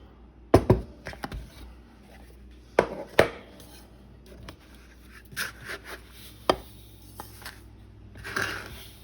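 Sugar scooped from a canister with a measuring cup and leveled off for blueberry muffins, sharp scraping clacks and thuds in irregular bursts with quiet gaps, close and without talk.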